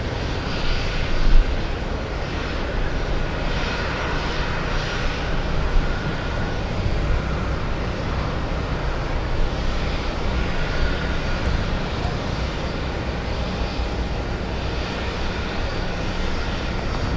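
Cape Air Cessna propeller planes at Boston Logan airport give a steady, sustained engine drone, with a continuous roar holding at even loudness throughout and no talking.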